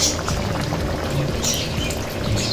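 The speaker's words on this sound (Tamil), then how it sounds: "இப்போ இதில் வந்து நம்ம இந்த புளி கரைச்சல் சேர்த்துக்குவோம்" Tamarind water splashing into boiling drumstick gravy in a pan, a steady bubbling and pouring gurgle that continues throughout.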